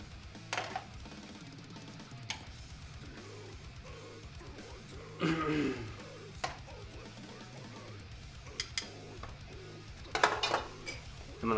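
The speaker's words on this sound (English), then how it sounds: "I'm going to grab all of the sausage out of the saute pan." Metal tongs lift sausages out of a saute pan with scattered clinks and scrapes against the pan, a louder clatter near the middle and a burst of clanks near the end, over a low hum.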